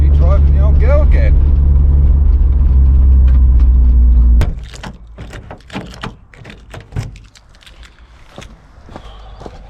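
An old car that has just passed its MOT is driven with a loud, steady engine drone that stops after about four seconds. Scattered clunks, footsteps and door-like knocks follow.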